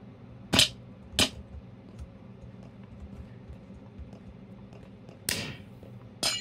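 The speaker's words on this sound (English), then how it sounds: "there's a firework." Minecraft fireworks from the video game: three sharp, loud bursts, two close together early and one near the end, separated by quiet low background sound.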